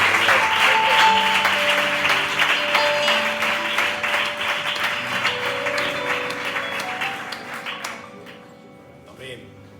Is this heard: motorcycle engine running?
no